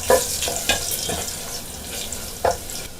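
Cumin and crushed garlic frying in hot oil for tomato rasam, with a soft sizzle under several sharp scrapes and taps of a spoon stirring in the pan.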